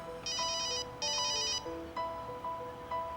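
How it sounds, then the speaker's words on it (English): A cell phone rings twice with an electronic trilling tone, followed by shorter beeping pulses, all close and clear with no one speaking. "Oh, it's ringing."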